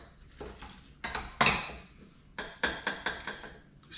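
A small scraper scrapes a yeast mixture out of a cup in a home kitchen while making French toast bread, giving several short, close scraping and clinking strokes in uneven bursts.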